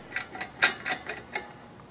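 A gas regulator is screwed onto a welding gas bottle and tightened, giving a short run of about six quick metallic clicks and ratcheting scrapes with no talking.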